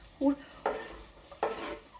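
Garlic added to githeri cooking in a pot produces three short bursts of sizzling and stirring, close and fairly soft, separated by brief pauses.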